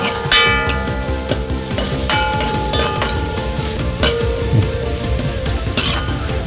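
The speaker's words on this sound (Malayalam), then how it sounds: "ഇതിനകത്ത് മസാലപ്പൊടി ഇട്ട് തക്കാളിയും ചേർത്ത് വഴറ്റിയെടുക്കും." Masala powder and tomato sauté in a pan for egg curry, with a loud, continuous sizzle close up and repeated clinks and scrapes from a stirring utensil against the pan.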